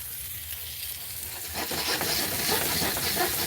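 Meatballs sizzle steadily in a frying pan, a dense hiss that swells louder midway as they are rolled and stirred, close and alone without talk.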